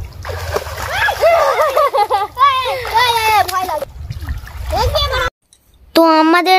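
Children splash loudly in pond water while bathing, with lively chatter and shouting throughout and a brief silent break near the end.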